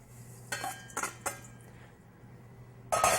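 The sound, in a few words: whisking nut and oat flour with dry ingredients in a bowl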